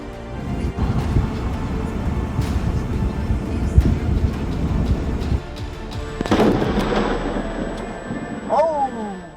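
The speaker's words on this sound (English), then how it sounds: "Thunder paid an unexpected visit to Wayne Findon while he was waiting at a red light" Deep rumbling thunder rolls and booms with sharp cracks over several seconds, heard near a car waiting at a red light, fading near the end beneath a brief high squeal.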